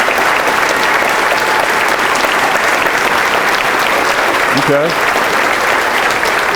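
Audience applauding scholar athlete honorees at an awards event, a dense, steady wash of clapping throughout, with a brief spoken word partway through.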